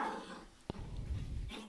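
A dog lets out a short vocal burst, close by, amid low indoor background noise, with quieter sounds before and after it.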